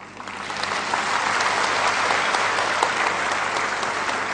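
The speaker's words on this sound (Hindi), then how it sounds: "तो मैं चाहूंगा कि आप एक ऐसी ताली बजाएं" A large seated audience at a Hindi talk about Emperor Ashoka breaks into sustained applause, the clapping building over the first second into a dense, loud, even roar that holds steady to the end.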